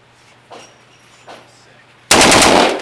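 An M16 fires a loud, sustained automatic burst at an indoor gun store range. Before it, faint shots from other lanes sound in the background.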